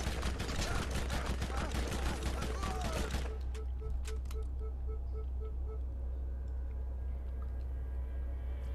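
Rapid automatic gunfire in Borderlands rattles densely for about three seconds, then cuts off, leaving faint ambience with a few soft pulsing tones.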